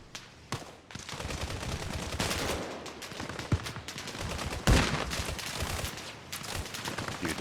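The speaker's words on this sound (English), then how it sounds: "Dude set up his machine gun." Machine gun fire rattles through a video game NPC battle as USMC Raiders assault an insurgent outpost, with sustained bursts and scattered gunshots, one loud close crack standing out among the dense firefight.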